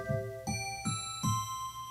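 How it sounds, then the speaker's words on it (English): Bell preset on a Yamaha CP88 stage piano, four bright bell notes struck in even succession, each ringing with shimmering sustained overtones, clear and close with no voices. "They call that nice bell."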